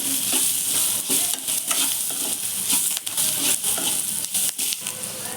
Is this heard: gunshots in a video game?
no